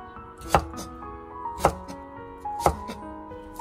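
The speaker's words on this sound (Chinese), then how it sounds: "最后切成小丁" Knife chopping cucumber into small dice on a cutting board, three sharp, evenly spaced thunks about a second apart, close and clear with quieter knife taps between them.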